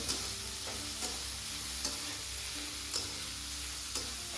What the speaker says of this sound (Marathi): त्यानंतर आपण यामध्ये ॲड करणार आहोत टोमॅटो ते पण छान फ्राय करून घ्यायचे